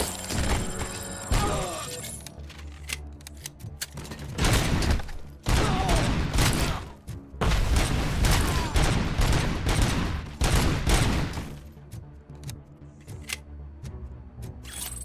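Gunfire in Robocop: Rogue City comes in heavy repeated volleys with brief pauses between them, loud and close, with thumps and shattering mixed in.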